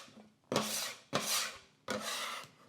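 A bench scraper rasps across a board while broccoli is cleaned: three distinct, close scraping strokes, each a short gritty sweep, evenly spaced, with no talking.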